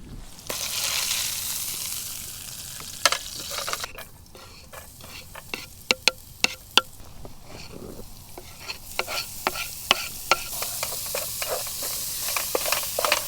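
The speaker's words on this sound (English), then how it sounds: "So we've half cooked our redfish, sauteed the garlic, lemongrass, and ginger." Garlic, lemongrass, ginger and half-cooked redfish sautéing in a pan, a loud continuous sizzle broken by frequent sharp scrapes and clicks of a utensil stirring.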